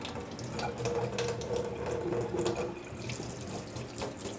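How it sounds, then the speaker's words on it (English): Hands being rinsed with soap under a running tap, a steady close splash of water into a sink with small shifts in the flow, no talking. "So I'm just rinsing my hands with soap, my fingers"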